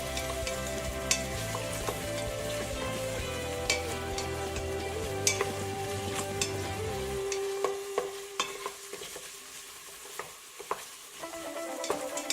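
Ginger garlic paste sizzles and spits in a hot pan while cooking coconut rice, a steady close frying hiss with scattered crackles and pops, the low rumble fading midway and leaving the sharper sizzle alone.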